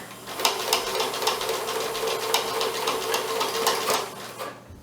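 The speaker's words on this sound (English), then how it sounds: "I'm going to actually keep going all the way until I get to this corner." A sewing machine stitches a quilted potholder in one continuous run, a close, steady rapid needle chatter with faint rhythmic clicks that stops just before the end.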